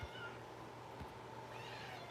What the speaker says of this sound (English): That's how we know Luna's here. Is her meow. She has the most windy meow right now.